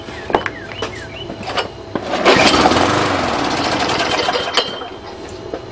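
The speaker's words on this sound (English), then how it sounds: "Well, she started and died" A Tecumseh lawn mower engine catches after priming and runs roughly for a few seconds before sputtering out, with clicks and clatter before it fires; loud and close.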